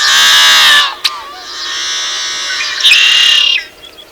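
A yellow-headed blackbird in a marshland gives loud, close, harsh buzzing calls, a long raspy drone followed by a sharp click and a second grating, gurgling burst, then faint chips.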